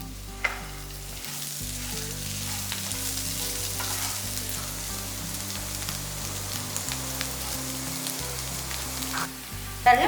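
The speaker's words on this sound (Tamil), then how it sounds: "இப்போ ரசம் வந்து நல்லா அங்கங்கே பபிள்ஸ் வந்து கொதிக்க ஆரம்பிச்சிச்சு." A pot of rasam boils on the stove, with a continuous bubbling sizzle and soft popping close by, with no voices.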